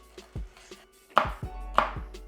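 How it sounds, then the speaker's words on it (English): A knife chops chili for a Thai beef salad on a cutting board, giving a series of sharp, crisp, irregular taps up close, with two louder strikes standing out among lighter cuts. "I'm just going to chop that up and put it on the side"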